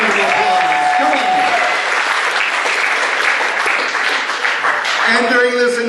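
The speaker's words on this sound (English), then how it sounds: "Give them a big round of applause." A room of guests at a recognition banquet gives a sustained round of applause, loud and dense, with voices and a few whoops over it and a speaker's voice returning near the end.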